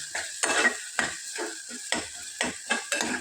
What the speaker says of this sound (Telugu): ఈ విధంగా కలుపుతూ మగ్గించుకోవాలి